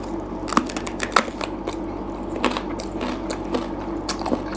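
Close crunchy bites and chewing of rice with canned fish, a series of sharp crisp clicks and crunches over a steady low room hum, with no talking.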